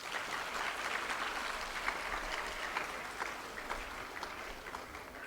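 A crowd of schoolchildren clapping at a provincial sports meet at a Saraswati Vidya Mandir school, steady dense applause sustained for several seconds at moderate distance, with no voices standing out.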